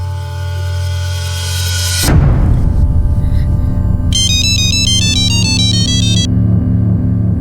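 A steady phone ringback tone hums, then a bright electronic ringtone melody chirps for a couple of seconds over a continuous droning line.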